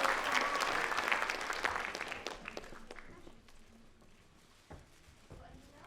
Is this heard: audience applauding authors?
yes